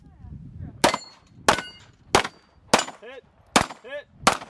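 Sharp gunshots at targets on a shooting range during a timed contest with two five-round magazines, six loud cracks fired in a fairly steady rhythm about half a second to a second apart, with faint voices between shots.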